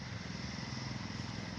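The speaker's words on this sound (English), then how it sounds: "He's not even cutting the grass, he's just running a lawnmower." A loud lawnmower engine runs steadily outdoors at idle, not cutting grass, with a continuous motor drone throughout.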